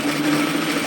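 Sewing machine stitching a cardigan collar seam, a brief close steady motor whir with a constant tone and no pauses or voices.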